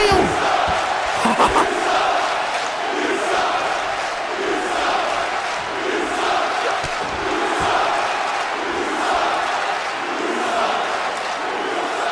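A video game arena crowd in WWE 2K23 roars steadily throughout, a dense, continuous wash of cheering and chanting that swells and dips slightly, with no clear speech over it.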